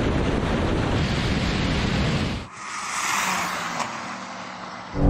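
A BMW M3, Mercedes C63 Black and Audi RS5 accelerate hard in a drag race, a loud wind-buffeted engine roar that drops away halfway through, leaving quieter rushing noise.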